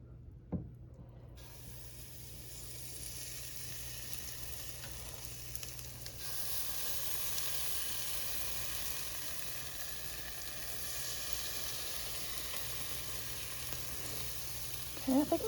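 Pancake batter sizzles steadily in an oiled pan, a constant close frying hiss that stays fairly quiet and even throughout, with a faint clink near the end.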